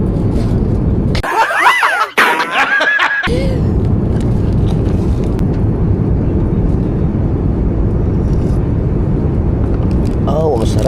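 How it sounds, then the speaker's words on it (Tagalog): A large airplane drones loudly and steadily throughout, a broad low roar from near overhead, with a brief gap of changed sound early on and some voice-like tones over it. "Laki na aeroplano na to."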